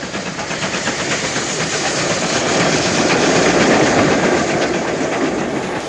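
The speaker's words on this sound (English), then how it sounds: "6934 Beechamwell Hall runs through on a fitted goods." A steam locomotive, a Hall class engine numbered 6934, runs through a spacious old city station hauling a fitted goods train, a loud steady roar of wheels clattering over rail joints with a hissing wash, growing slightly in the middle and passing without talk.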